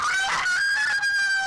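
A rooster crows in one sustained, loud, close call with a rising then steady tone, heard alone without talk.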